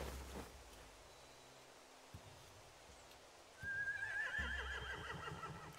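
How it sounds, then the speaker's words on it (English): Horses whinny in The Walking Dead video game, a single rising neigh breaking in partway through over quiet ambient noise, with faint hoof-like thuds. "They have horses."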